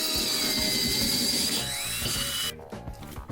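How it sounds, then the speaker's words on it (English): Drill with a tile bit slowly boring through ceramic, a high steady whine with grinding beneath it that cuts off abruptly, followed by faint handling clatter. "slowly and steadily drill a hole through any ceramic and it will work"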